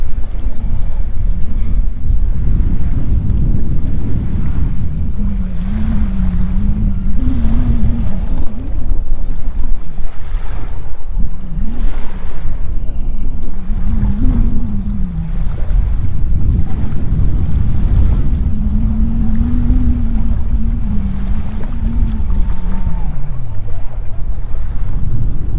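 Steady surf and wind on the shore of Malkiya Beach in Bahrain, a continuous loud wash of waves with heavy wind rumble on the microphone and a faint low droning tone drifting in and out.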